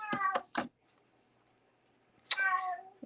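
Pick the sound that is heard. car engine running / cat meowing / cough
cat meowing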